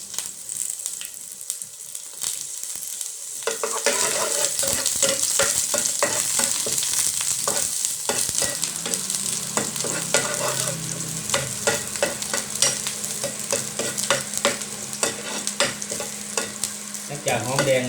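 Shallots stir-fry in a hot pan as the start of a Lao-style pork and bamboo shoot dish, with a steady close sizzle, scraping stirs and spatula clatter running throughout, without voices.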